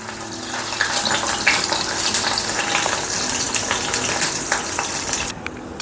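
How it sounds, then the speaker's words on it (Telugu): Fish pieces shallow frying in hot oil in a kadai, a dense, continuous crackling sizzle close up that holds steady before dropping away at the very end. "కడాయి వేడెక్కాక దీన్ని ఇలాగ మనం ఆయిల్లో వేసుకొని ఫస్ట్ ఫ్రై చేసుకోవాలి చేపలు"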